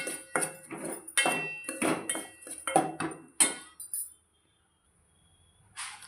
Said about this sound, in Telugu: ఉప్మా రవ్వ తీసుకొని పచ్చివాసన పోయే వరకు వేయించుకోవాలి.